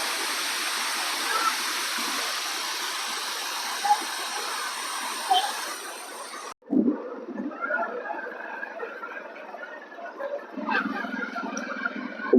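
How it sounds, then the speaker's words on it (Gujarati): A rushing stream below a waterfall near the Tapkeshwar Mahadev temple in Gir, Gujarat, makes a steady, loud roar for about six seconds. It then gives way to a quieter, more uneven mix of water sounds. "સુંદર મજાના ઝરણા પેટે આગળ વધતો ધસમસતો આ જે પ્રવાહ છે"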